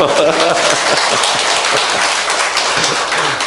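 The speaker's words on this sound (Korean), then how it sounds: "시기하지 말고 박수 한번 줘요." Loud, dense applause from a church congregation during a Wednesday morning worship service, a continuous wash of clapping filling the room without a break.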